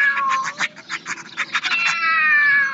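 A cat gives a long, drawn-out, wavering caterwaul, loud and near, pulsing through several rises before trailing off into a sustained yowl, with no speech over it.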